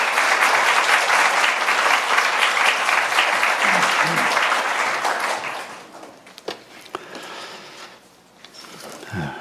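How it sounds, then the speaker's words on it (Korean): A church congregation gives loud, sustained applause to welcome a pastor, dense clapping filling the room for several seconds before it thins to a few scattered claps and quiet. "우리 큰 박수로 환영해 주시면 감사하겠습니다."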